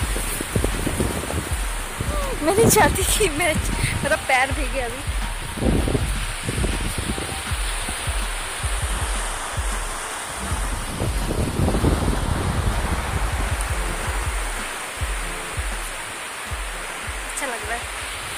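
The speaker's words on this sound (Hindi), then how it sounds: "मस्त हवा चल रहा है।" Wind blows at a beach, a loud, constant rushing roar with waves in it, while people talk over it now and then.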